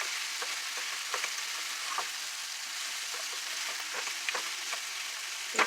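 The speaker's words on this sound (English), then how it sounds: "we're going to stir the veggies, see how our onions are doing" Onions and vegetables sizzling in a pot for chicken soup while being stirred, a steady soft crackling hiss with occasional scraping strokes, close and fairly quiet.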